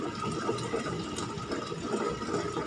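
An ultra mini wet grinder runs steadily while grinding soaked rice and urad dal, giving a continuous wet churning whir at close range, even in level and with no voices.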